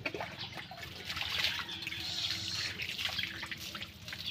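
Water running and splashing steadily as a very thin dog is bathed, a continuous tap-like pour that stays fairly loud and close for the whole stretch, with small drips and trickles mixed in and no talking.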